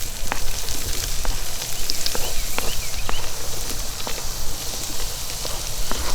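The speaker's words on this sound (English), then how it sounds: "Nothing smells better than onions cooking in butter" Onions sauteing in butter in a pot, a steady close crackling sizzle with scattered sharp pops and light clinks, no voices.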